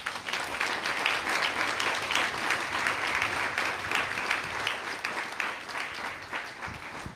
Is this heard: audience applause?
yes